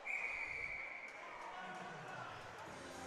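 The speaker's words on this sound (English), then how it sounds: "Out of play, whistle." A referee's whistle sounds at a college club ice hockey game between Indiana and Cincinnati, a sharp sustained blast at the start that fades into crowd and arena noise with commentary over it.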